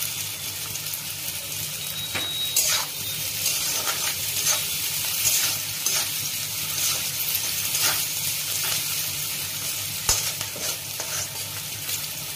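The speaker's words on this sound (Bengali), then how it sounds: "পেঁয়াজটা ব্রাউন করে ভাজা হয়ে গেছে," Onions frying in oil in a kadai until brown, a steady hissing sizzle broken by stirring scrapes and knocks against the pan, moderately loud and close, no voices.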